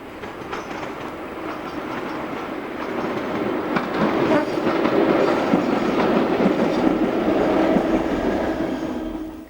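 A former British Rail EPB electric multiple unit, converted into a route-learning train, rolls along with a steady rail rumble and rhythmic wheel clatter that swells midway through, with no voices.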